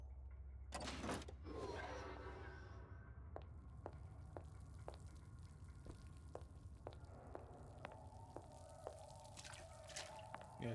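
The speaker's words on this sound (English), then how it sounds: "even crouching through the water, it will still make noise" Splashing and dripping as a character crouches and wades through water in Bioshock Infinite: Burial at Sea, quiet repeated sloshes and drips at irregular intervals, with an occasional louder burst.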